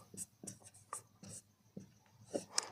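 Marker or chalk strokes on a board during a maths lesson: faint, irregular scratchy strokes and taps in short bursts with pauses between, quiet and close, without talk.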